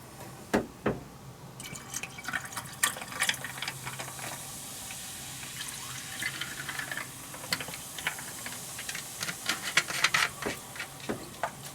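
Sparkling water poured into a small glass fizzes and crackles steadily with many tiny popping bubbles and occasional louder drips, close and fairly quiet.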